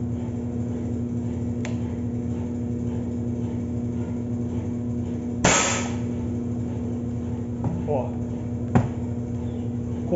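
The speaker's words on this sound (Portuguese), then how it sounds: "Vamos agora dar um disparo com esse aqui pra gente ver." A Rossi R8 PCP air rifle in 5.5 mm fires a single sharp, loud shot midway, standing out against a steady background hum, with a couple of fainter clicks before and after.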